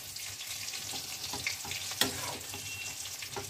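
Masoor lentils and radish greens cook in a pan with added water, bubbling and sizzling as a spoon scrapes and stirs from the bottom, close and fairly quiet with a single sharper clink partway through.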